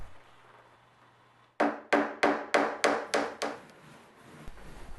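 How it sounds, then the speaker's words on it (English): A hammer drives nails through thin wooden slats along the edge of a box, with seven sharp, evenly spaced strikes in quick succession, close and loud, followed by quiet. "I'm using thin slats of wood, which will be glued and nailed along the edges of the box."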